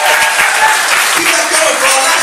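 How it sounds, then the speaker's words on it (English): Comedy show audience bursts into dense, continuous applause, loud and close, with a few voices mixed into the clapping. "Can we have another round of applause for Mark?"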